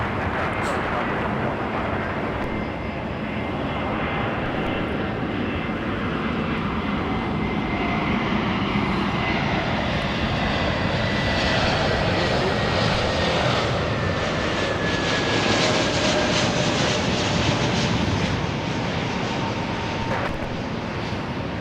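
Jet airliner engines roar steadily at Los Angeles International Airport, a loud continuous rumbling wash with a rising whine partway through as an aircraft passes, no voices.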